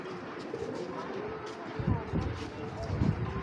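A pair of Military breed pigeons coo in low, throaty bursts beneath someone talking nearby.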